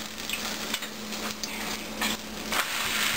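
A metal spatula scrapes melted cheese in a pan while cooking a chicken and cheese quesadilla, with a series of short rough scrapes and clinks over a faint sizzle, close and clear.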